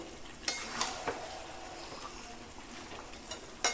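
Chicken is stir-fried dry in spices for an achari chicken curry, giving a soft, steady sizzle close by with a few quick scrapes and clinks of a spatula against the pan, and no voices.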